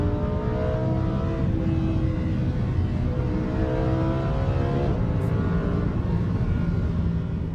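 Porsche 911 GT2 RS supercar driving on the Isle of Man TT mountain course, its engine roaring steadily with rising and falling revs as it accelerates, loud and continuous throughout.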